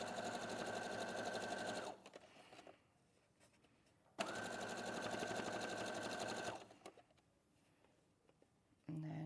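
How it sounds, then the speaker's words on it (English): A sewing machine top stitches an apron in two long, loud, steady runs of motor whir, each about two seconds, separated by pauses with faint handling noise. "So we're just top stitching basically."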